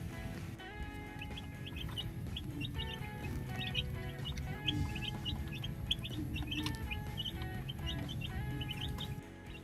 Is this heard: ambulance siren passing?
no